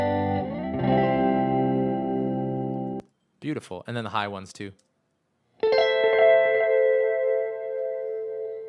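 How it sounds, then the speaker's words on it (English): Sustained, wide guitar chords run through stereo effect plugins with echo and chorus, ringing loud and layered, cutting out while someone speaks briefly, then a second bright chord passage returns. "I think it was the same plugins on these guitar patches which accent those chords here"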